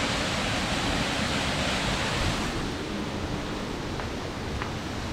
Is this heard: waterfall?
yes